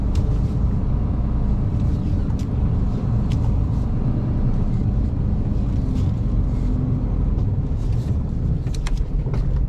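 A car engine runs steadily and fairly loud while reversing in a yard in Lancashire or Cumbria, a continuous rumble with faint clicks and no talking.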